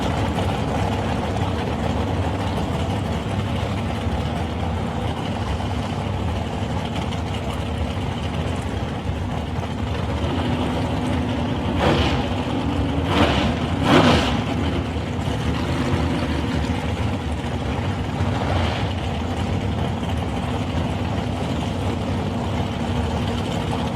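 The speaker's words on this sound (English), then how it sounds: "You'll hear the difference between big block and small block when these cars rev" Big block drag car engines of 565 cubic inches at a drag racing eliminations meet, a steady heavy low rumble with a few sharper revving bursts near the end.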